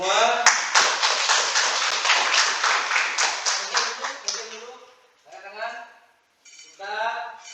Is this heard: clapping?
yes